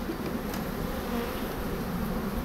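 Buckfast honeybees buzz continuously in a dense, steady drone, a close swarm humming without pause and with no voices.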